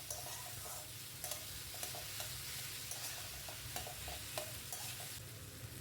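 Pumpkin and moong dal being lightly mashed and stirred in a pan over a gentle sizzle, with soft periodic scrapes and taps of a spoon; quiet and close, no voices.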